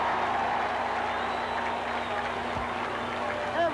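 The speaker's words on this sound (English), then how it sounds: "Every pitch bringing a roar from the Shea Stadium crowd." Steady roar of a large Shea Stadium crowd at a 1964 baseball game during Jim Bunning's perfect game, a continuous loud wash of cheering and applause that swells slightly near the end.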